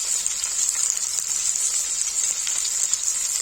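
Spinach and lotus stem fry in a pan for Kashmiri palak nadur with a steady, close, bright sizzle that holds even throughout, with no voices.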